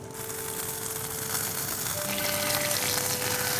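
Fish pan-frying skin-side down in olive oil on high heat, a steady loud hiss and crackle of sizzling oil throughout, close and continuous with a faint tonal hum beneath.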